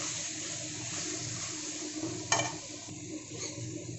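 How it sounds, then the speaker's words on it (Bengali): An onion-tomato paste masala with ginger and garlic fries in a pan with a steady, soft, wet sizzle. A single spatula scrape stands out partway through; no voices are heard. "এবারে আমি মশলাটাকে সুন্দর করে কষিয়ে নেব"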